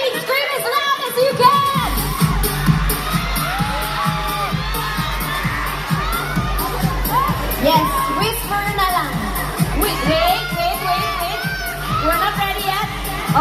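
A large crowd of SB19 fans screams and cheers loudly and continuously at the Xiaomi Fan Festival 2024, with high children's shouts and whoops layered over the roar.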